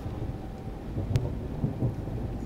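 In a Train Sim World 4 thunderstorm, a loud thunder rumble rolls over steady rain with a sharp crack in the middle.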